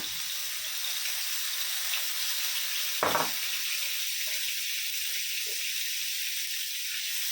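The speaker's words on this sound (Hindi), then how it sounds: "तेल गरम हो गया ना तो 1 अदरक लहसुन का पेस्ट डालेंगे, 1 टेबल स्पून।" A tablespoon of ginger garlic paste hits hot oil with a brief burst of sizzle at about three seconds, then a steady low hiss of frying continues quietly with no talking.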